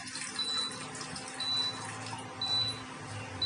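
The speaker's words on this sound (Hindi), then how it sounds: "सर्वप्रथम साथियों हम सबसे पहले पानी लेंगे।" Water is poured to prepare a jala neti nasal rinse, a steady close splashing wash that runs unbroken through the whole stretch with no voices.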